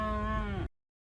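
A single cow gives one close, loud moo on a farm. The call is short and tonal and ends abruptly.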